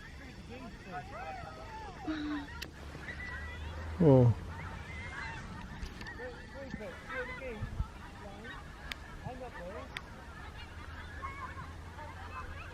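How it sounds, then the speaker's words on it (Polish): Ducks honk loudly as they fly overhead in a brief burst, with softer bird calls and quiet voices around them in an otherwise calm outdoor setting. "Zobacz, ile tam jest ptaków."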